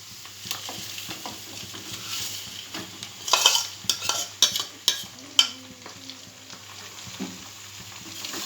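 A spoon scrapes and clatters in a pan over a steady sizzle as fried chicken is stirred in, with a burst of quicker stirring knocks in the middle.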